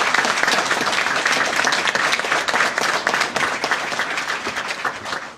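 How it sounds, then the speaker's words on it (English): Dense applause from a press conference audience fills the stretch, a steady wash of many hands clapping at an even level without any voices. "You can clap now."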